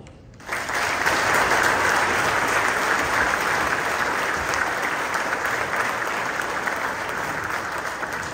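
Congregation in a church bursts into loud sustained applause for confirmation candidates, starting abruptly after a brief quiet moment and continuing steadily with dense clapping throughout.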